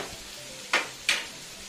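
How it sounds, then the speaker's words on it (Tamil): Tomatoes and onions sautéing in a pan, a soft steady sizzle broken by two quick stirring scrapes close by, with no talking. "இந்த தக்காளியும் வெங்காயமும் நல்லா வதங்கி தக்காளியே தெரியாத அளவுக்கு நல்லா குழஞ்சி வரணும்."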